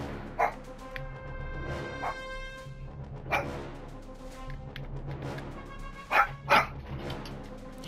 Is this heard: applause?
no